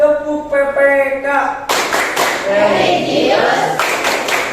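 A school class in Indonesia performs a rhythmic clapping chant, loud and close, with many voices shouting together over patterned hand claps after a brief spoken cue.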